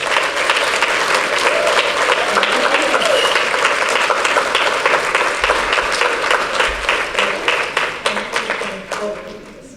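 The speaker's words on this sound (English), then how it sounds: "So let's give them a really big round of applause." Loud, sustained applause from an audience at a nonprofit's anniversary celebration, dense clapping with faint voices mixed in, slowly thinning and fading out near the end.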